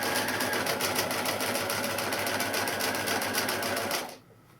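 Up close, a sewing machine runs continuously while stitching a neck facing on a dressmaking project, a loud, even rapid-fire chatter that cuts off abruptly near the end.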